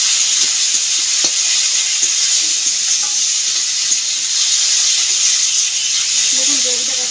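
Masala for fish curry, with garam masala just added, frying in a pan: a loud, even sizzling hiss runs throughout, with a few soft scrapes of stirring.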